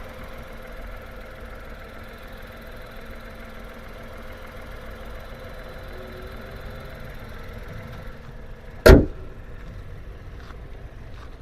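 A 2025 Tata Punch Adventure 1.2 manual car engine idles steadily with a low, even hum for several seconds, broken once by a single sharp knock.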